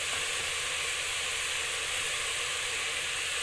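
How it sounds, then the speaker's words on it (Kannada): Mint leaves frying in a pan give a dense, loud, steady sizzle that holds evenly from start to finish, close by and without speech. "ಇದು ಚೆನ್ನಾಗಿ ಫ್ರೈ ಆಗುತ್ತೆ."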